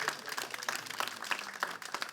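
Church congregation applauding a woman who has stood up, a dense patter of many hands clapping at moderate distance, steady and sustained through the brief moment.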